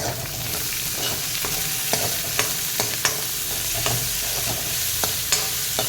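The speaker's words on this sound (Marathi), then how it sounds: "आता मी याच्यामध्ये कांदा घालून तो सुद्धा थोडासा परतून घेते" Onion sizzles and is stirred in a hot pan for a green rice pulao, with steady frying hiss and regular spoon scrapes and taps close by.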